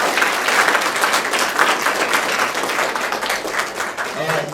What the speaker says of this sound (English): let's just clap our hands to congratulate all of us